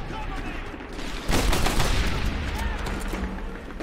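Rapid pistol fire in the World War II shooter Medal of Honor Airborne, a dense burst of shots over battlefield noise and other gunfire, loud and close.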